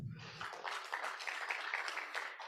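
Audience at an annual accountants' seminar applauding, a soft, distant patter of hand claps sustained for a couple of seconds without a voice over it.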